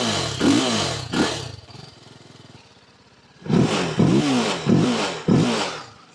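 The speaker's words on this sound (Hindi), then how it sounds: "सो मैं आपको ना एग्जॉस्ट साउंड सुनाता हूँ।" A TVS Apache RR310 single-cylinder motorcycle exhaust revs in sharp bursts, a thumping note rising and falling, with a brief idle lull between the revs.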